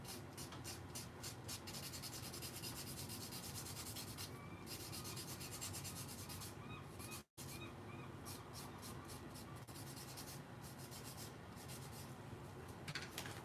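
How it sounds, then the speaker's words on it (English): A nail file rasps back and forth over dip powder nails in quick, close, rhythmic strokes, with one brief pause partway through before the rubbing resumes. "Let's use the file they gave us."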